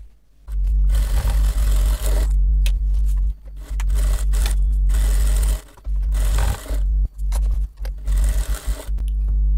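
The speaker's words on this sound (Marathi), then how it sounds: "आता इथे दोघी दोन्ही पीस एकत्र आधी जोडून घ्यायचे हे असे चारही बाजूने शिवून घ्यायचे" A sewing machine stitches a lining and fabric piece together around all four edges for a simple shopping bag, running in loud, close bursts of rapid needle chatter with brief pauses between seams.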